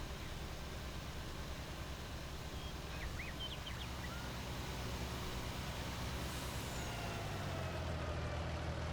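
Low, steady truck drivetrain rumble with a faint hissing whine, like a retarder or air brake, on a tractor-trailer rig in Farming Simulator 22, continuous and fairly quiet throughout with no talk.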